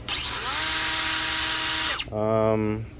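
A 3-inch cordless cut-off tool, Milwaukee M12 or DeWalt 20V, spinning up to a sharp high whine for about two seconds, then a short lower-pitched buzzing tone as it runs down.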